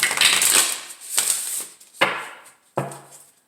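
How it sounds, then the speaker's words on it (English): Tarot cards being shuffled by hand in a series of quick papery riffles and slaps, with four distinct bursts spaced about a second apart, close and moderately loud, with no voices. "One more shuffle."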